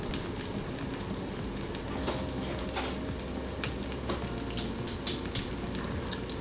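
Ribeye steaks sizzle in oil in a pan on the stove. A dense, crackling frying sizzle with scattered pops continues steadily throughout at moderate loudness, with no voices.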